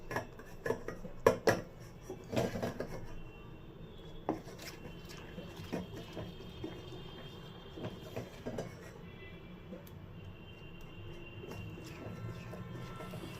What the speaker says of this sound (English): Apply pressure with the bottom of the spoon so that the chunks will get crushed and mix up with the melted chocolate.